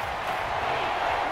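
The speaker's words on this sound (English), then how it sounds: "This crowd turning up the decibel level." Stadium crowd noise in the Madden NFL 24 video game, Cleveland Browns versus Seattle Seahawks: a steady, loud roar from a large crowd, broad and continuous with no breaks.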